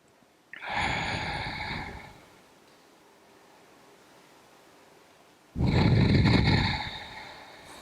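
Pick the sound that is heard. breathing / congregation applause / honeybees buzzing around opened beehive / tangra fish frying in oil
breathing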